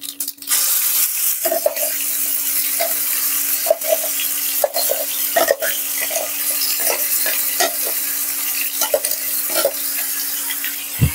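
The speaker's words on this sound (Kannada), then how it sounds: "ಇದು ಕಮ್ಮಿ ಉರಿಯಲ್ಲೇ ನಾವು ಇದನ್ನ ಹುರ್ಕೋಬೇಕು." Garlic masala with onion seeds and curry leaves frying in a pan on a low flame: a continuous close sizzle broken by repeated scrapes and clicks of a stirring spoon, with no talking.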